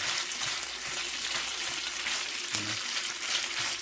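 Tocino, sweet cured Filipino pork, frying in a pan, a steady close sizzle with constant crackle and occasional stirring knocks, no voices.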